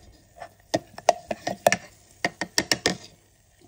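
Lemon juice being stirred into grape juice in a glass for a summer drink: a series of sharp, close clinks and taps of a spoon against the glass, in irregular bursts, with no talk.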